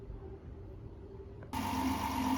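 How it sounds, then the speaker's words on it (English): Car engine starts and settles into a steady idle, a low continuous rumble with a faint whine, with an EGR valve and solenoid rigged to the intake manifold. "So now we have the engine running"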